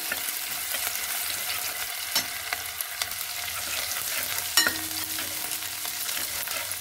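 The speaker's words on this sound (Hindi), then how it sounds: "हरी मिर्ची लहसुन और अदरक तो हम थोड़ी देर भून लेंगे" Steady sizzle and crackle of cumin, green chili, garlic and ginger frying in hot mustard oil in a pan, with occasional sharp pops and a clink of a utensil, no voices.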